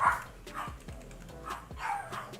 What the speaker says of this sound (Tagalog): Sensya na, medyo maingay yung mga aso